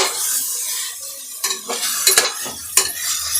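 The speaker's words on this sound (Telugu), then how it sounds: "మష్రూమ్ని ఒక 5 మినిట్స్ ఫ్రై చేసుకొని తర్వాత బియ్యం వేసుకోవాలా" Mushrooms frying in oil for a mushroom biryani, a close hiss of sizzling broken by several sharp clinks and scrapes of a utensil stirring against the pan.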